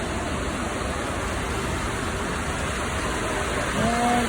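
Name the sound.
rain falling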